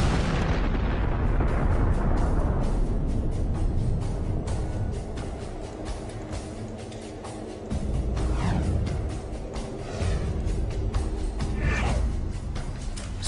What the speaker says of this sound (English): it will have evaporated so much that the remaining stuff will evaporate in a colossal explosion